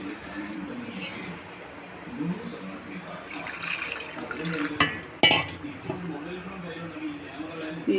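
Water is poured into a blender jar to rinse out leftover masala, splashing and sloshing in short bursts while a person talks over it.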